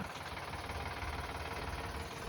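A tractor engine runs at a steady idle, a continuous close rumble with an even mechanical hum and no voices over it.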